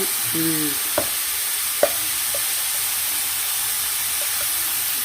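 Ingredients sauté in a pan with a steady, close sizzle and hiss throughout, and a few light clicks and taps of stirring.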